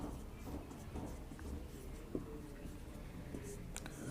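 A pen scratches out a short written heading on paper in soft, faint strokes, with quiet speech-like murmurs in the background.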